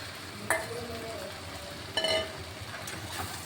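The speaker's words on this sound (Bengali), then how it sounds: "এই যে মশলাটা দিয়ে একটু ভাজা ভাজা করে নিচ্ছি।" Spices and already-fried eggplant fry in a wok with a soft, continuous sizzle, broken by two sharp scraping strokes of a spatula against the metal.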